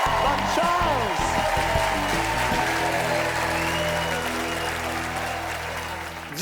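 A TV studio audience applauds the evening's four guests, steady clapping under music with tonal accents, fading slightly toward the end.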